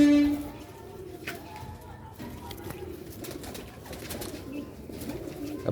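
Sialkoti quail-type pigeons with black faces coo softly in a loft, with low, repeated murmuring calls over a busy background of faint clatter and distant noise, and a brief horn-like tone at the start.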